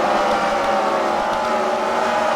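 Race cars roar steadily at close range on an oval track at a night of racing, a continuous dense engine drone with no voices over it.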